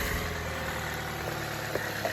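A 2014 Chevy Cruze 1.4L turbo engine with mass airflow sensor trouble idles at a steady low rumble with constant vibration and no other sounds breaking through.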